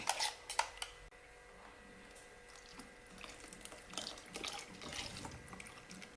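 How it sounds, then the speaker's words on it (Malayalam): A grinder jar is rinsed under a running kitchen tap, soft and fairly distant: a trickling stream with a few sharp clinks of the jar at the start, then steady splashing and light knocks. "ജാറൊന്ന് കഴുകി അതിൻ്റെ അകത്തോട്ട് ഒഴിക്കാം"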